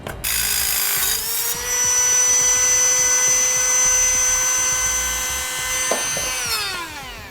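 A power tool cuts a long metal trailer-brake bracket to length during a braking-system install on a 2017 Chevrolet Silverado, a loud steady high whine with a ringing tone that shifts pitch near the end and then winds down.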